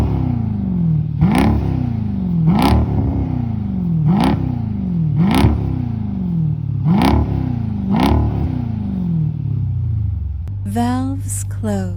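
A Jeep SRT V8 with its exhaust valves open revs in six sharp, evenly spaced bursts, each climbing then falling back to a loud idle, before a short rising whine at the end.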